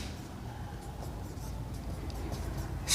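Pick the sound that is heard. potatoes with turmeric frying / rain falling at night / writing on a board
writing on a board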